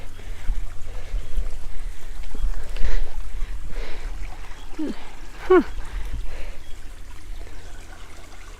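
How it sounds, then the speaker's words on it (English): Creek water on the Placerita Canyon Trail in Santa Clarita, California trickles and splashes softly into a pool, a gentle steady flow under occasional quiet speech and a brief murmur. "Got water coming in here."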